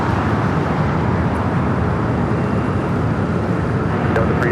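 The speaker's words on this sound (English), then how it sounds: "this retro flight coming in from Vegas" Jet airliner on approach at Los Angeles International Airport, arriving on flight 2690 from Las Vegas: a steady, loud broadband roar with continuous low rumble and wind-like hiss, holding level throughout without a clear pass-by peak.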